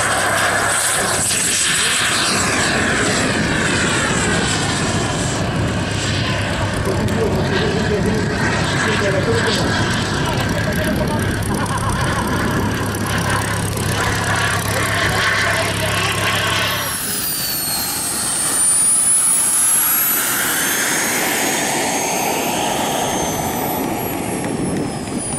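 A model jet aircraft with thrust vectoring and a 1.70 m wingspan flies at an air show, its loud, steady jet whine filling the air and shifting in pitch as it passes, then sweeping away.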